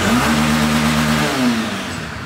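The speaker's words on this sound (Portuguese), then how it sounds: "Vamos acelerar aqui primeiro, só pra você sentir depois. Ah, vamos ver. Pode, acelera forte, Henrique." Close motorcycle engine revved hard, loud rising and falling engine pitch in two quick throttle pulls before easing off, with no talking over it.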